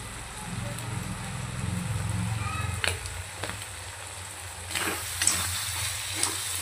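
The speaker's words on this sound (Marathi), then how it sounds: "अशाच पद्धतीने अद्रक लसूण टाकून परतून घेऊया छान" Ginger garlic paste frying in plenty of oil for a Hyderabadi mutton boti curry, a close sizzling hiss with stirring scrapes, dying down and then flaring again.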